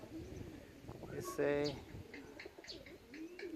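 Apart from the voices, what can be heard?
racing pigeon cooing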